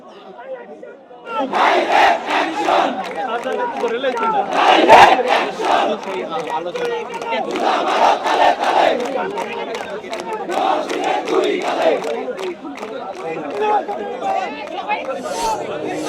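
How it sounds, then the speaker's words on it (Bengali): A student procession at Dhaka College fills the air with loud, sustained chanting of slogans, a dense mass of many voices rising and falling in rhythmic waves over steady crowd noise. "সেখান থেকে বিভিন্ন স্লোগান আমরা ইতিমধ্যে লক্ষ্য করছি"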